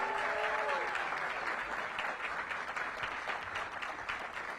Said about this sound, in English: let's give our students a big round of applause